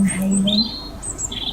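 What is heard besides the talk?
birds chirping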